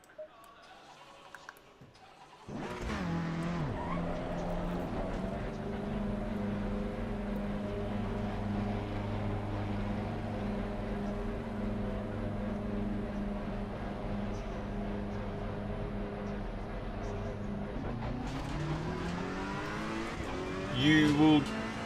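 A Ferrari 488 Evo race car in Assetto Corsa Competizione starts after a brief quiet moment and then holds a loud, sustained engine roar, with revs rising and shifting through gears and a surge near the end.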